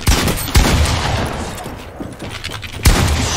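Automatic SMG fire in Fortnite, with loud, close bursts of rapid shots and sharp impacts, the heaviest volleys near the start and again toward the end.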